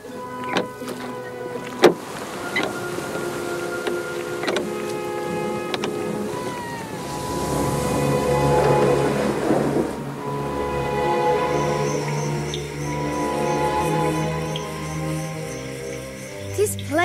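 Boats being launched onto a calm sea in an audio drama, with creaking wood, rope and water sloshing building to a sustained rush mid-scene, mixed under music and spoken lines.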